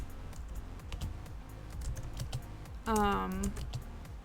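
Keys clatter in quick irregular bursts on a computer keyboard during a typing game, close and fairly soft, with a short voiced sound cutting in near the end.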